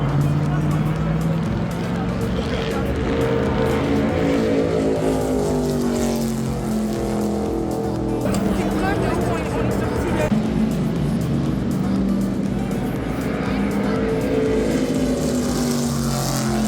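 NASCAR race car at Daytona, a loud, steady engine drone with shifting pitch, heard from inside the car, with talking over it.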